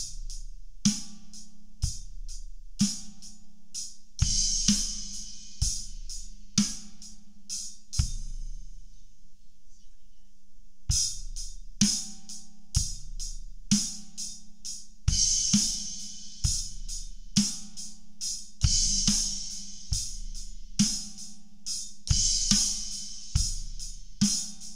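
A beginner kids' drum-lesson beat with the kick and crash cymbal landing on the and of one: a steady kick-snare-hi-hat groove with bright crashes, pausing briefly mid-way before resuming, close and loud, no talking.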